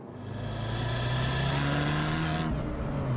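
An Abarth 595 Competizione accelerates hard, its engine note climbing steadily and loud up close, then dropping abruptly near the end as if shifting, with no talking.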